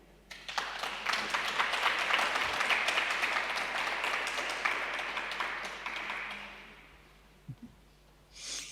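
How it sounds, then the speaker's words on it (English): An audience claps for a speaker at the HBMC2020 human biomonitoring conference, a moderate round of applause building quickly, holding for several seconds, then fading, followed by a few faint knocks and rustles. "Please give a round of applause to Dr. Marike Kolossa-Gehring."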